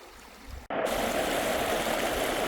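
River water rushes steadily around a canoe wrapped against an obstacle during a rescue training exercise, a continuous broadband flowing roar that starts abruptly after a brief quieter moment and stays loud and close.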